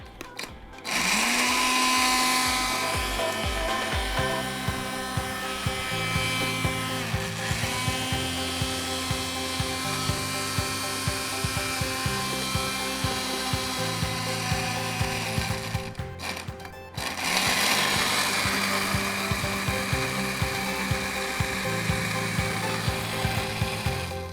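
A kitchen blender whirs loudly through dried herbs and sugar for pizza topping, running in two long bursts with a brief pause between, the motor pitch shifting as the contents spin.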